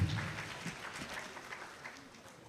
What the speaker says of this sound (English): I'm also here. Clap for me.